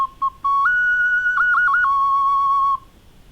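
A clay whistle sounds a pure tone, a couple of short chirps, then a sustained note that steps higher, wavers, and drops back to a lower note.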